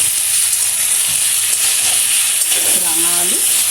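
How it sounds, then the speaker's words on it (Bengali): Shrimp, sweet potato and pointed gourd fry in a pan with a loud, steady high sizzle and hiss, plus a brief scraping stir near the end. "রাঙা আলু আর পটলটাকে ভেজে নিচ্ছি।"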